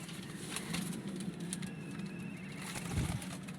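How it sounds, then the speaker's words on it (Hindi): Soft pigeon coos rise now and then over a faint, steady background hum, with a few quiet rustles. "ये मेरे फेवरेट कबूतर है लाल"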